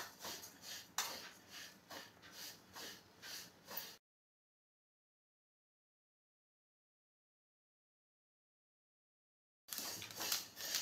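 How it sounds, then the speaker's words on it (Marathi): Sesame seeds dry-roasting in a hot kadhai over low gas: soft, rhythmic scraping and crackling for a few seconds, then a stretch of silence before the sizzling texture returns. "तर कढई तापली आहे आणि मी त्यामध्ये तीळ घेते पहिले, तर बारीक गॅसवरतीच मी भाजणार आहे"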